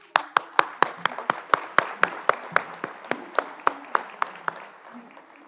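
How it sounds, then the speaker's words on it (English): At a high school senior awards night, sharp, evenly spaced hand claps ring out one by one in a steady rhythm, close and distinct, about three per second, with a faint murmur between them. "you should give yourselves a round of applause"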